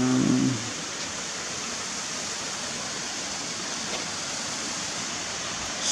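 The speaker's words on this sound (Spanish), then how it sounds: "Se escucha el ruido del agua abajo cayendo." A small trickling waterfall at El Cajón, with little water flowing, makes a steady hiss of falling water below, continuous and moderately faint outdoors.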